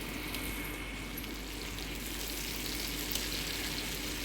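Chopped tomato with turmeric frying in a pan while being stirred, giving a steady, even sizzle that holds at a constant level throughout with no talk over it.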